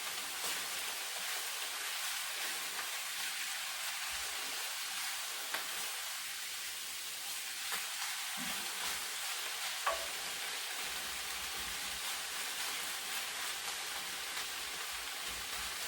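Sliced pork belly fries in a pan alongside cabbage, giving a steady, dense sizzle like falling rain that runs throughout with a couple of faint clicks and no talking.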